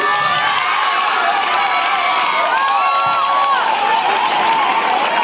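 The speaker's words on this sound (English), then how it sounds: "Give 3 cheer claps all of you." A crowd of schoolchildren claps and cheers in unison, a loud, dense roar of mixed voices and hand claps sustained throughout.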